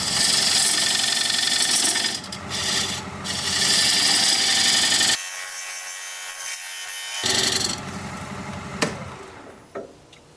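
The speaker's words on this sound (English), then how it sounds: "Now I'm going to use this diamond point tool to square up the sides of the tenon." A diamond point tool scrapes against a spinning plum wood blank on a wood lathe while squaring a tenon, giving a steady loud rasping hiss over motor hum that breaks off briefly before resuming, with a few sharp ticks near the end.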